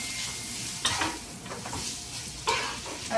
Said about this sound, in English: Now we're going to add the pasta to it, stir it all up, for about like a minute